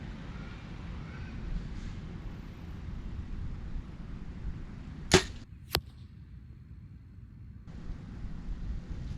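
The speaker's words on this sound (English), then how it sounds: "Hit target. Didn't sound like it was a center though." Two sharp, distinct impacts about half a second apart stand out against a steady outdoor hiss, like arrows striking an archery target at a distance.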